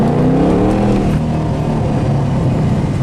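A car fitted with a cold air intake drives on a road test, its engine droning steadily and fairly loud from start to end, with some rising engine tones early on and no talk over it.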